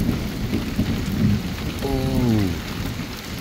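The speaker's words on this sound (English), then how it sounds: "Oh, we got a bit of thunder as well." Thunder rumbling through a heavy rainstorm at night, rain steadily hissing on surfaces with low rolling booms, close and fairly loud, no voices.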